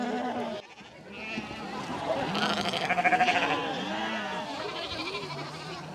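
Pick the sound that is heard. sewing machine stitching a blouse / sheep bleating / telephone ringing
sheep bleating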